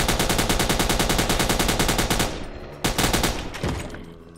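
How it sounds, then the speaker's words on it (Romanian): Sustained rapid machine gun fire in the Minecraft Crafting Dead mod, loud and evenly paced bursts for about two seconds, then a short second burst that fades out. "Ok, trebuie să ne pregătim machine gun-ul"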